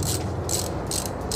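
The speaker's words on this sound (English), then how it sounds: "And I got the ratchet right here ready." A hand ratchet clicks rapidly while turning a fastener on a 20R engine from a 1977 Celica, with close, loud bursts of metallic pawl clicks in quick repeated strokes.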